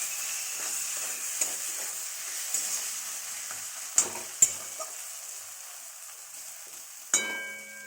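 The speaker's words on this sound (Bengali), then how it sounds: "এবার আমি ধনে পাতাটা দিয়ে দিচ্ছি। এটা ভালো করে নিয়ে নিতে হবে।" Coriander leaves stirred into eggplant frying in hilsa fish oil give a steady close sizzle, with a few sharp spatula clanks against the pan and no talk.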